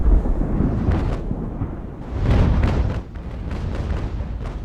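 Heavy rolling booms of ship cannon broadsides in an Age of Sail naval battle game, a continuous roar of overlapping blasts with two louder surges, no talking.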